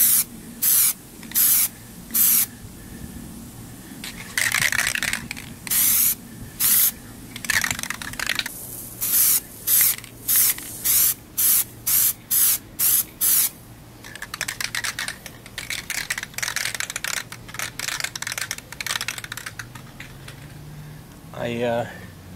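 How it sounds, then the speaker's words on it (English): Repeated short hissing bursts from an aerosol rubber coating spray can, close and loud, in an irregular rhythm of quick sprays with brief pauses and a low background hum. "Another spray or so."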